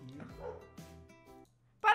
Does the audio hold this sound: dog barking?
yes